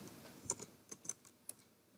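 Sparse, quiet clicks from a computer keyboard while entering medicine records into Tally Prime accounting software at a medical shop: a handful of separate keystrokes spread unevenly, with a couple of brief pauses between them.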